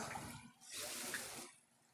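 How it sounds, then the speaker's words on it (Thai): Floodwater rushing and splashing during heavy storm rain in Chiang Rai, Thailand, a faint, churning wash that swells in the middle and then eases. "โอ้ยฝนบ่มีท่าทีว่าจะหยุดตก"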